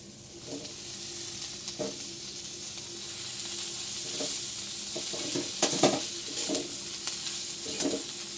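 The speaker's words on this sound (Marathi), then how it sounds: "भाजी परतून घ्यायची, थोडी थोडी परतवून घ्यायची" Amaranth greens (tandalja bhaji) stir-fry in a pan with a steady close sizzle, while a spatula scrapes and stirs in irregular bursts throughout.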